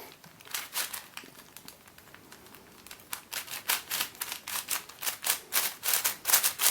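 Meffert's Hunter Pillow Cuboid 2x4x6 twisty puzzle is turned by hand, producing sharp plastic clicks and scrapes in irregular bursts that grow quicker and louder toward the end, heard close up without talk.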